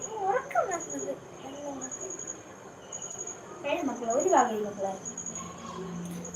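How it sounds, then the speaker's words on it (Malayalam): Small kittens mew in short, rising cries, two clusters of near, moderately loud calls over a steady background hum, with people talking nearby. "പൂച്ചകളാണ് ചുമ്മാ നിർബന്ധിക്കാതെ"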